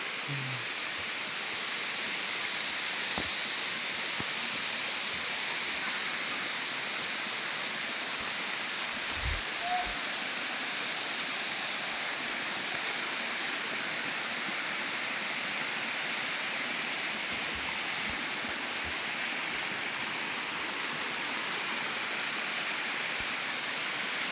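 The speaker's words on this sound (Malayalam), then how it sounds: "വെള്ളച്ചാട്ടത്തിൽ എത്തിക്കഴിഞ്ഞു" The Thumbi Thullumpara waterfall at Thusharagiri roars in a steady, broad rush of falling water that stays constant throughout, with no voices.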